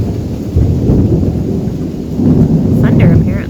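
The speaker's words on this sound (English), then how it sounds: "I love rain, but not thunder and lightning." Thunder rumbles loudly and continuously through a storm, a deep rolling roar with rain in the mix and a faint voice near the end.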